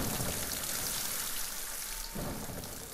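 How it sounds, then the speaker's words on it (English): Heavy rain pours down steadily in a dense, loud hiss with a deep rumbling undertone. It is unbroken throughout, with no voices. "It's rain."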